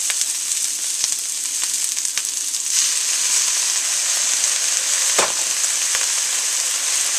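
Chow fun rice noodles and vegetables sizzle loudly in a hot pan as soy sauce is added, a steady crackling hiss with occasional sharper pops and stirring scrapes, no talking.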